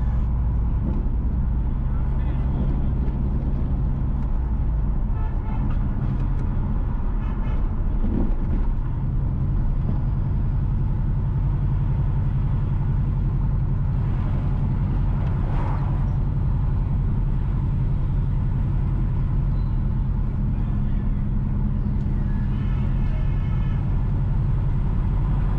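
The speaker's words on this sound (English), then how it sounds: "We are currently driving up the Henney Hill." A car driving up Henney Hill at Welcome Hall, St James, Jamaica, heard as a steady low engine and road rumble that carries on evenly throughout, with little change in level.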